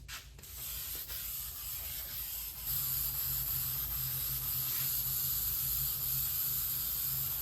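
Adhesive sprayed from a can while repairing the headliner of a hard shell roof top tent, a steady close hiss running continuously throughout with a slight rise partway, no talking.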